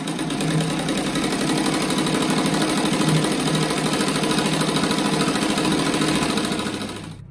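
A sewing machine stitches tricoline cotton patchwork for a rug in one loud, continuous, fast buzzing whir, running close and steady for about seven seconds before winding down.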